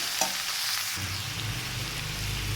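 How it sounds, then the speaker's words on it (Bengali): Vegetables stirred and lightly fried with turmeric for shukto, a steady hiss of sizzling oil with scraping stirs in the pan, close and continuous, the frying growing louder partway through. "এবার আমি এটা নাড়াচাড়া করে দিচ্ছি ভালো করে একটু হালকা ভাজা ভাজা করে নিই"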